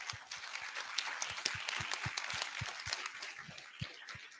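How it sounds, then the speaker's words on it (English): A small audience applauding a speaker at a Web3 and crypto event, a fairly quiet room of scattered individual claps with distinct close hand strikes throughout. "Let's give another round of applause."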